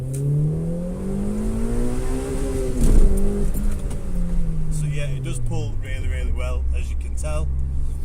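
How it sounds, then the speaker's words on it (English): Honda Civic EK coupe with a B16A2 engine revving and accelerating, its rising engine note climbing and dropping through gear changes up close while someone talks over it. "Now, the engine pulls really strong. You know, it's the B16A,"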